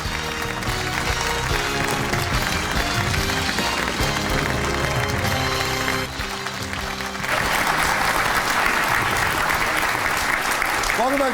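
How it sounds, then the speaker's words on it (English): A TV studio audience claps loudly on a talk show, the dense applause swelling in the second half after a stretch where music and the crowd mix together. "Everybody clap."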